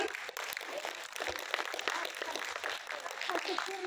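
Applause from an audience at a charity event for elderly people, marking the day of older persons and Republic Day, honouring blind performers; steady clapping is heard under a speaker's voice over a public address.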